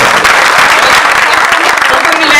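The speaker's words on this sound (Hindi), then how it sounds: "मोहतरमा चांदनी पांडे के लिए तालियां बजा दीजिए" Loud, dense applause from a seated audience greeting the poet Chandni Pandey at a shayari recital, a continuous wash of many hands clapping with crowd noise underneath.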